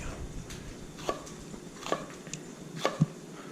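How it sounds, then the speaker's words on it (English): A knife slicing a jalapeno on a cutting board, a few soft, separate cuts spaced about a second apart, with a sharper knock near the end in a quiet kitchen. "Actually, I want a few more slices of jalapeno."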